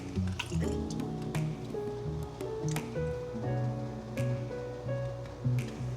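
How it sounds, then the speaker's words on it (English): Syrup drips and squishes as canned peaches are drained, a run of wet plops and trickles with soft clinks, close and fairly quiet, with no talk. "You have to drain most of the syrup first."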